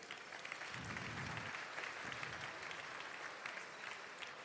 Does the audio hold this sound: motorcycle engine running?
no